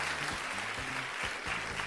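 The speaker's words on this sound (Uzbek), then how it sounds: "Shularga alohida bitta qarsak chalib qo'yasiz." Studio audience applause on the Omad Shou TV game show, a steady even wash of clapping for the whole stretch with a low tonal hum running beneath it.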